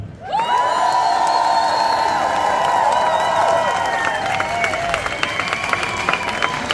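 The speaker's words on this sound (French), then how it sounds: "j'aimerais vraiment un tonnerre d'applaudissements à toute l'équipe de la Pride Valais" At the Pride Valais event, a large crowd bursts into loud, sustained applause and cheering, with whoops and whistles rising over steady clapping throughout.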